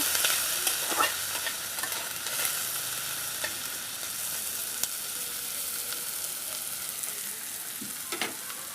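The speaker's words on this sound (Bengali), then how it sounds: "পেঁয়াজটাকে এখন আমি লাল করে ভেজে নেব" Chopped onion frying in a pan with whole cumin, a continuous bright sizzle close by, with occasional scraping strokes of a spatula stirring it through.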